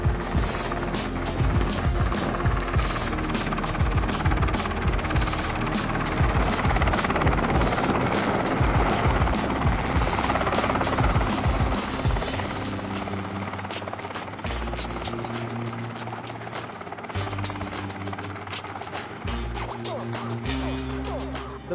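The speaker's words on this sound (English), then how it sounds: "that helicopter landing on it" A helicopter's rotor thumps loudly and steadily, close by, as it flies and lands at Desertland, then the engine tone shifts lower and steadier as it settles, with no voices.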